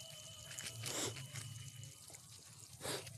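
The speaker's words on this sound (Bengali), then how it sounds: "তাই জল বেরোচ্ছে একটু" Water leaks from a pipe joint on an electric water pump line, giving faint irregular splashing and dribbling bursts over a low steady motor hum.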